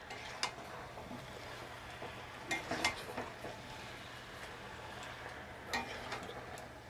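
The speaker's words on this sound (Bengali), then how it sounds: "ভেজে রেখেছিলাম যে আগে থেকে আলুটা, দিয়ে এবার ভালো করে আরেকটু কষাবো।" Jackfruit and pre-fried potatoes stir-fried in a pan for a prawn-style dish, with a few scattered clinks and scrapes of a spatula against metal over a faint, steady background hiss, quiet and close.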